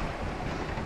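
Waves and swell wash around a sailboat running downwind along the coast, a steady broadband rush of water and wind with no clear individual wave breaks.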